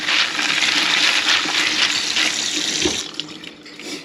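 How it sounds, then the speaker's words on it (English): Tap water runs hard into a sink as dried Camellia red kidney beans are rinsed, a loud steady splashing stream that tapers off toward the end, with no talk over it. "the first thing we're going to do is wash the beans."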